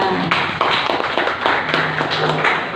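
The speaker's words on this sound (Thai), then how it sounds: "ขอเสียงปรบมือดังๆอีกครั้งหนึ่งค่ะ" Audience applause at an indoor training event, a dense patter of many hands clapping steadily and fairly loud throughout, with no talk over it.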